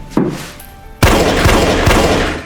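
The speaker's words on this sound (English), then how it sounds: "Hearing gunshots, Jesse instinctively hides, but to his shock" Gunshots in a Breaking Bad scene: a sharp blast at the start, then after a pause a loud burst of repeated gunfire that keeps up in a rapid, continuous barrage to the end.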